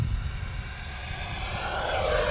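An Arrows Avanti S 50mm electric ducted fan RC jet on a 3S battery flies past with a loud, rushing whine that builds steadily toward the end of the short pass.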